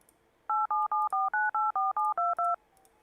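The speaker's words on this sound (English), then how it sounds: "So what's happening is this machine is dialing using one of 6 different caller IDs." An auto-dialer machine sends a quick run of eleven evenly spaced touch-tone beeps at close range, each tone crisp and short, against a quiet background.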